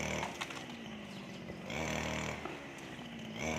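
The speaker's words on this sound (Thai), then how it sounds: "เราก็ตัดหญ้านะคะเสียงเครื่องตัดหญ้า" Steady, buzzing motor drone of a grass trimmer cutting grass nearby, its engine rising and falling slightly in pitch and loudness.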